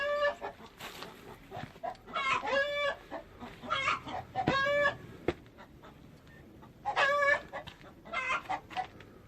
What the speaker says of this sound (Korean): 닭 소리가 어디서 들리는 거야?